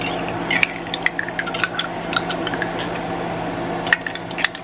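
Sticky fig jam spooned into a pan while cooking, with a series of light metallic clinks and scrapes of a utensil against cookware, close and moderately loud over a steady background hum.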